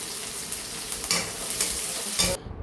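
Finely chopped large onion and small shallots fry in a pan, a dense steady sizzle with a few brief scraping stirs, close and fairly loud, ending abruptly.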